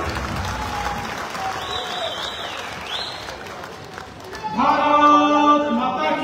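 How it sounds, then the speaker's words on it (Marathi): A crowd at a BJP election rally in Rajapur breaks into loud, sustained clapping and cheering that swells after a voice speaks over the loudspeakers. "जोरदार टाळ्या"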